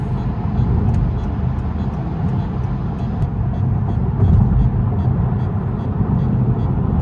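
Road traffic in the USA heard from inside a moving car, a loud, steady low rumble of engine and tyre noise with faint ticking; no speech.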